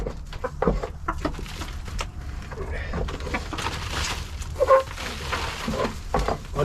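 Backyard chickens cluck in a coop, scattered soft clucks and short calls close by over faint background noise and occasional handling sounds.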